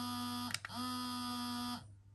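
A steady electronic buzz holds for about a second and a half after a couple of brief stutters, then cuts off cleanly; close and fairly loud.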